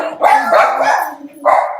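A dog barks loudly and close by indoors, a few quick yappy barks running together, then another bark after a short pause.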